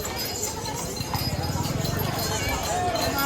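Horses near the entrance of the Balumama temple in Adamapur clip-clop with a steady run of hoof beats close by, under a background of voices.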